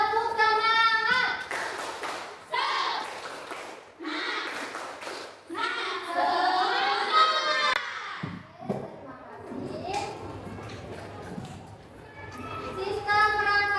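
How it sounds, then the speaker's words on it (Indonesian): A classroom group of schoolchildren in an Islamic primary school lesson does rhythmic spirit clapping in bursts of sharp, patterned claps, alternating with chanting voices and a teacher talking between the rounds. "kita tepuk semangat dulu"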